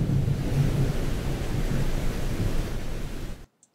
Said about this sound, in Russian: Что теперь ввели, ребята, эффект дождя.